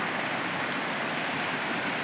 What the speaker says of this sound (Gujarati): નીચે પાણી જાય છે.